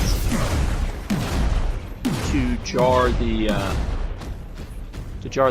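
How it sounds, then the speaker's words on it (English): Deep booming cannon blasts in the video game Disney Infinity 2.0 go off repeatedly as explosive shells, each shot ringing with a falling tone, while someone talks over the explosions. "I'm going to use our friend the cannon over there and its explosive shells"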